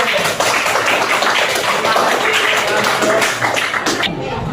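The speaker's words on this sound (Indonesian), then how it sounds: "Tepuk tangan untuk kelompok satu." Group clapping for the first team at a school academic supervision coaching session, dense and steady for several seconds before thinning out at the end.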